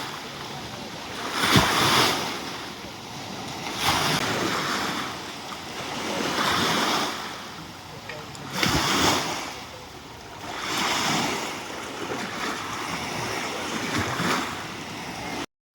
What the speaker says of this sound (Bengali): এখানে এই ঢেউয়ের আওয়াজটা কি সুন্দর লাগছে দেখুন।